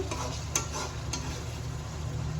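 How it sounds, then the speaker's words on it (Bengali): Meat frying in a pan gives off a steady, soft sizzling hiss, with a couple of brief utensil clicks over the low, even sizzle. "আর এখানে দেখুন মাংস ফ্রাই করছি"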